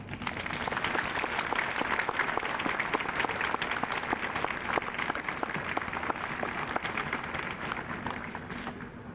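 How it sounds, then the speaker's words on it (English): An audience gives sustained, dense applause to welcome Vietnam veteran Vince Okamoto, a steady wash of clapping that holds for about nine seconds and tapers slightly at the end. "please give us a very warm hand for Vince Okamoto"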